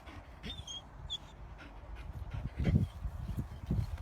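A guard dog being trained pants and breathes in rough bursts close by, the huffs growing louder toward the end, with a faint high whimper early on.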